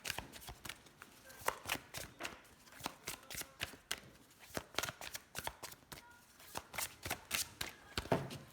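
Tarot cards being shuffled for a reading, a quick run of crisp riffling flutters and soft slaps repeated steadily, fairly quiet and close with no talking.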